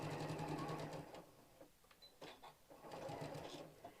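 A sewing machine with a walking foot stitches fabric in quick, even bursts, faint and close, pausing briefly between runs.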